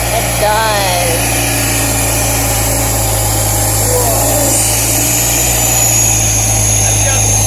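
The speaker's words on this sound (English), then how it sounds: "they're going to start the car up" A BMW E46 323i with a louder aftermarket exhaust idles steadily just after starting, a loud, deep, constant rumble with a faint whine on top, while people talk nearby.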